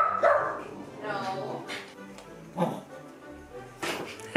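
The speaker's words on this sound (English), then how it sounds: "Mr. Darn Fingley is snorting." A dog snorts and huffs close by in short, uneven bursts, with a few sharper puffs near the end, over a busy indoor background.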